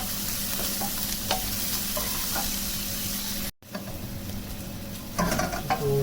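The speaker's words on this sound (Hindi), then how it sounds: "अंदर सबसे पहले शिमला मिर्च जाएगा, आगे हमें हल्का सा पकाना है इनको।" Bell peppers (capsicum) fry in a pan with a continuous close sizzle, broken by scraping stirring strokes and a brief gap, the stirring growing busier near the end.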